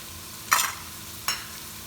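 Chopped garlic and curry spice hit a hot pan for Indian-style dirty rice, giving two short sizzling bursts about a second apart against low kitchen background.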